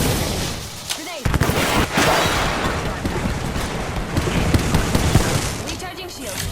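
Apex Legends gameplay gives a dense, loud barrage of gunfire and rumbling grenade blasts, with a booming hit near the start and continuous battle noise throughout.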